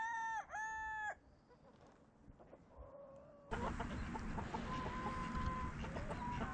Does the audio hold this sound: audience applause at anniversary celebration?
no